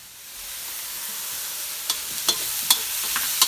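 Scallops and shrimp sizzle in a hot pan for a Thai chili dish; a steady frying hiss rises within the first second, then sharp crackles and pops break through it, with no voices.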